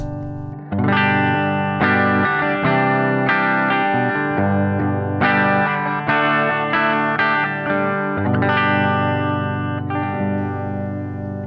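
An electric guitar on the bridge pickup, shaped by a Blue Cat Audio Axiom preset, rings out in distorted, chorus-washed chords and notes. The tone stays loud and continuous, with no voices over it.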